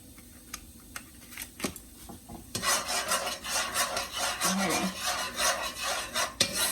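Rice is stirred in a cooking pot, giving a steady scraping and rasping that starts after a few quiet seconds and continues close up in a home kitchen.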